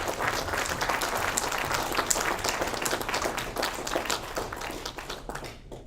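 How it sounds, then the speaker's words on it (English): A room full of people at a school graduation ceremony applauds steadily, dense clapping holding at an even level before tapering slightly at the end. "Could we please have a big round of applause"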